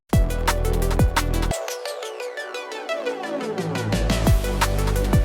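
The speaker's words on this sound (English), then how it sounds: "Tran Flange sounds like this." A Tran Flange transition sweeps over a loud electronic beat with heavy kicks, the low end dropping out briefly while a flanged whoosh slides and stretches before the full groove returns.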